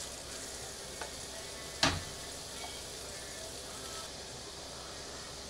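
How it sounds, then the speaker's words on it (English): Steady sizzling hiss of meatballs frying in a hot pan, continuous and close, with a brief clack partway through. "You wanna hear that sizzle."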